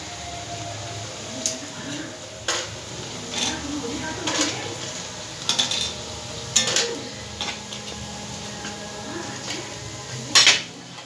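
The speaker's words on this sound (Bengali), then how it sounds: "ভাজাটা হয়ে গেছে, এবার আমি তুলে নেবো। পেঁয়াজিগুলো হয়ে গেছে।" Fried onion fritters (peyaji) are lifted out of a frying pan, giving several sharp clinks and scrapes of a utensil against metal at irregular intervals over a low background hum, with no talk.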